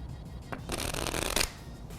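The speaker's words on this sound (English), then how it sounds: "So let's actually shuffle the deck." A deck of playing cards riffled in a smooth shuffle, a close, crisp burst of flapping cards building to a dense flurry and then ending, with no talking.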